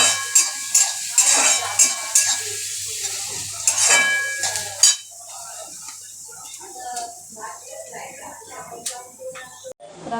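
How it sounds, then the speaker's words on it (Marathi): Onion fries in a pan while being stirred: sharp metallic clinks and scrapes of a utensil against the pan come in quick bursts, then settle into a softer sizzle with lighter stirring. "कांदा हलवून घ्यायचा."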